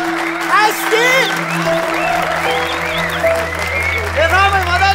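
A university hall audience applauds under a tonal music bed, with the clapping fairly loud and continuous throughout.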